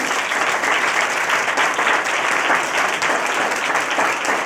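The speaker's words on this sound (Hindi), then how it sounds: "एक बार पवित्र आत्मा के लिए जोरदार ताली बजाएं" A church congregation at a sermon claps loudly and continuously in a dense, even roar of applause that holds for the whole clip.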